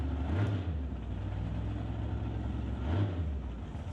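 A big block Chevy drag car idles at Mission Raceway Park during a nitrous purge, a steady rumbling engine with two brief hissing bursts of purge spray, one near the start and one later, loud and close.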